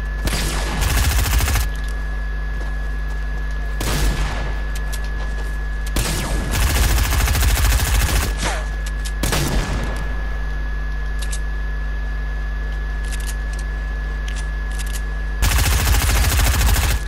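Fortnite gameplay gunfire: repeated loud automatic bursts lasting one to two seconds each, spread across the clip with pauses between, over a steady game hum and constant tone.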